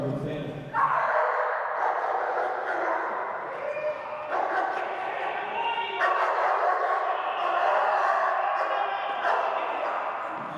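A police department dog barks loudly and repeatedly up close, a rapid run of sharp barks and yips in bursts with brief gaps, continuing throughout.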